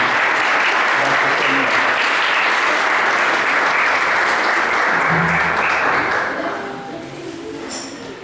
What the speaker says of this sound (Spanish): lo recibimos con un fuerte aplauso a nuestra hermana